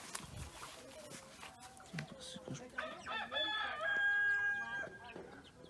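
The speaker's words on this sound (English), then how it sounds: "Chickens everywhere." Chickens clucking and a rooster crowing amid a busy flock on a New Brunswick homestead, with harmonic calls building toward the end and faint voices in the background.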